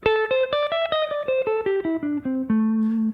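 An electric guitar plays a descending bluesy pentatonic run of single notes, each plucked cleanly with a slight bend, ending on a sustained low note.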